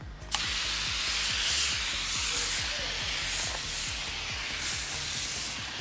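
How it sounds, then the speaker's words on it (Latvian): A pump sprayer hisses snow foam onto a motorcycle, a steady, close spray sound lasting several seconds after a brief click at the start. "Un klājam virsū putas."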